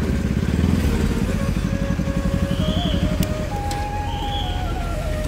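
A motorcycle engine runs steadily close by with a throbbing low pulse and slight revving, continuous throughout with light clatter and a faint tonal whine on top.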